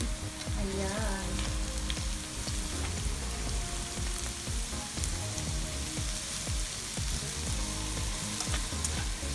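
Thinly sliced mushrooms sizzle in a hot pan for cream mushroom tuna pasta, a dense steady crackle with scattered sharp pops and scraping stirs throughout.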